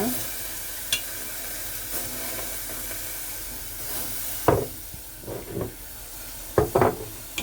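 A pot of sugar and water hisses softly while a spoon stirs, with a few distinct scrapes and clinks against the metal, close and otherwise quiet.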